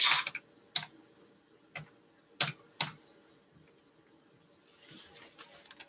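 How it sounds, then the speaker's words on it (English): Loud, separate clicks and clacks from a worn computer keyboard come in irregular bursts, sharp and close, then a softer run of light keystrokes near the end, with no talking. "my keyboard is dying"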